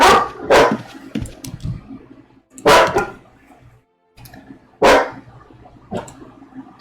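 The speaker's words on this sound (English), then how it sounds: "Don't know what my dogs are barking at." Dogs bark in loud separate bursts spaced a couple of seconds apart, with quieter yips and shuffling noise between the barks and no talk over them.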